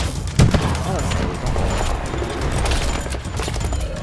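Halo Infinite combat: a sharp grenade blast near the start, followed by steady rattling gunfire and battle noise, with voices talking over the action.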